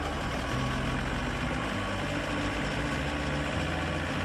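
A Deutz Fahr 8006 tractor with a 220 horsepower engine runs steadily alongside an RMH feed mixer on a livestock farm, a constant low diesel rumble and drone holding at even loudness throughout, with no talking.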